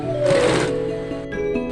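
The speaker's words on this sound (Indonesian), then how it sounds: "saya akan lanjut menjahit ini" A sewing machine stitches a ruffled fitted sheet for a bunk bed, a short close whirring burst with a brief rise and settling hum, no speech.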